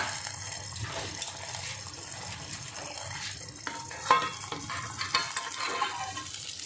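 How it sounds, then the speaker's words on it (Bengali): Katla fish bati chorchori, a hand-mixed Bengali fish dish, bubbling and simmering in a hot pot once the lid is lifted, with a steady wet crackle and a few louder stirring clatters near the end. "দেখুন কত সুন্দর ফুটছে"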